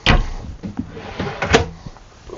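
Deep storage drawers in a 2021 Showhauler Expedition 4x4 motorhome sliding open, with a sharp clack at the start followed by softer rattling runner noises and another bump, close and fairly loud.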